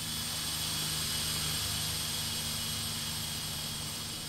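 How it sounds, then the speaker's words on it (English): Continuous broad roar of a video game airplane engine flying over, steady and fairly loud throughout, with no voices. "That was a plane that I was hearing."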